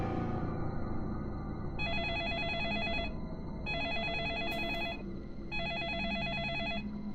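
Telephone ringing in the video game Deadly Premonition, three evenly spaced electronic ring bursts, each about a second long, sounding over a low continuous game soundtrack.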